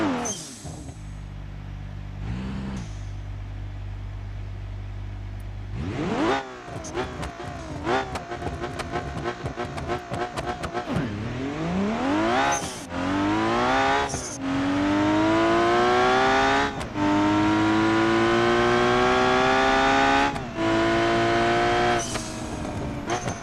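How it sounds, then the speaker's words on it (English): Burnout in BeamNG.drive with a freshly built motor in the blue BX roadkill project car: a low idle rumble, then loud rising engine revs with sustained tire squeal, repeated rev surges and shifts building to a howling scream. "Now let's see if I can get this thing to do another burnout."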